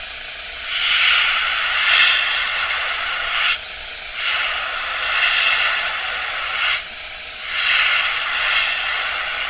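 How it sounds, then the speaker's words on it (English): Aerosol spray paint hissing onto a vintage 1970s bike frame in several bursts, each lasting about two to three seconds with short pauses between, steady and close. "Just get a little bit of the overspray to go a little higher on this side so it matches."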